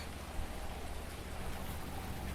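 Steady rain falls outdoors on a farm near a house, a dense, even hiss of drops hitting the ground and surfaces close by, with no voices.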